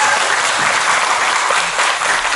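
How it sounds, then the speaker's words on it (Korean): Loud, dense applause from an audience at a gathering of women workers, a close, continuous wash of clapping that holds steady throughout. "박수가 큰 것 같습니다"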